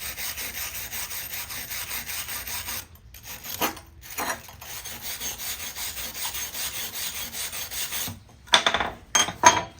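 Wire brush scrubbing a freshly laid stick weld bead held down with a hammer, a dense rasping scrape that runs steadily and close, pausing briefly a few times before short bursts of brushing at the end.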